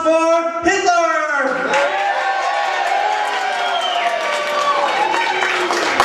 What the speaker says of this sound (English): Everybody, give a round of applause for Hitler!